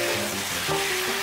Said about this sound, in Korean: 양념이 잘 배도록 1분 정도 볶아주세요.